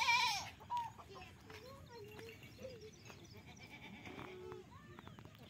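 Goats tethered in a flooded, rain-soaked farmyard bleat: one loud, close cry at the start, then several fainter, wavering bleats spread over a soft background of rain.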